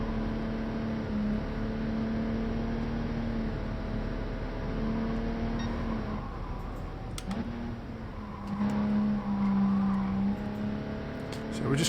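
A Jaguar E-Type drives at Goodwood Motor Circuit in the racing game GT Sport, its engine holding a steady droning note that shifts in pitch as the car accelerates and eases off, continuous and close throughout.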